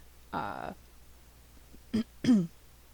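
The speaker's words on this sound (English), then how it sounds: "I'm clearing my throat." A man clears his throat indoors: a short gravelly rasp, then a pause, then two quick voiced throat-clearing grunts close to the microphone.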